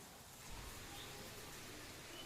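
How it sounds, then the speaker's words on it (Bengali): Steady soft rain falls outdoors, a faint, even hiss of drops lasting throughout with no voices. "বাইরে বৃষ্টি হচ্ছে।"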